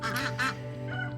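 Ducks on a small farm quack loudly nearby in a couple of harsh, nasal bursts, followed by softer calls over a faint steady hum.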